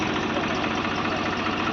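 A tractor engine idles steadily while stuck in mud, a close, continuous low rumble with a regular throbbing pulse and no other sounds.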